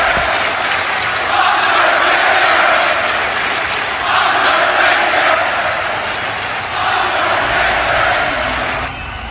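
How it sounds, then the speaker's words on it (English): A large WrestleMania arena crowd cheers and roars for The Undertaker, a dense, loud, sustained wall of noise that swells and dips in waves. "listen to this crowd"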